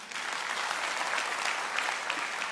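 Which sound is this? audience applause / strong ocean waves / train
audience applause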